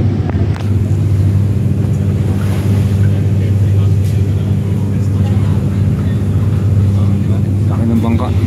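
A large boat's engine drones steadily out on open sea, with wind and water noise over the low rumble, while someone talks over it.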